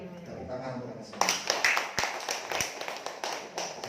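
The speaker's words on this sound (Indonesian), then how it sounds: "Tepuk tangan untuk kita semua." An audience at a religious gathering in Purwokerto claps hands, a burst of close, irregular clapping that starts after a quiet spoken passage and continues under a speaking voice.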